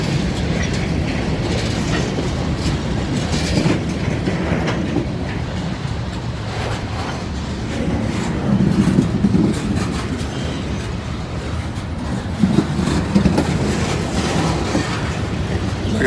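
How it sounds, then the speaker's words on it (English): Long freight train rolling past on the tracks, a loud continuous rumble with rhythmic clickety-clack of wheels over rail joints and occasional brief squeals, close by and steady throughout with no talking. "They got a pretty long train this morning."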